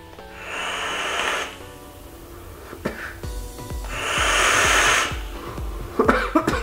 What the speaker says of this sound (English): I'm coughing because I'm nervous